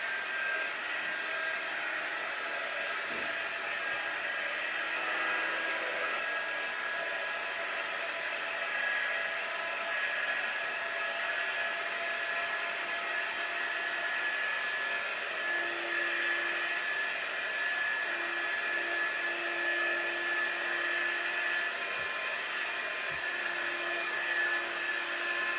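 A hair dryer blows steadily on a freshly painted Home Sweet Home craft sign, a loud continuous whirring hum that runs unbroken from start to finish with no one talking.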